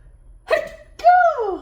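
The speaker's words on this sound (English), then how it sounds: "That sneeze shot through my whole back." A single person's sneeze, sharp and close, with a quick intake followed by a loud voiced burst, set against quiet background.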